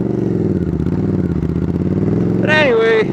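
A 1995 Suzuki Intruder VS800 motorcycle idles at a stop sign, its engine giving a steady, close, loud low rumble throughout, with a short burst of a voice over it near the end.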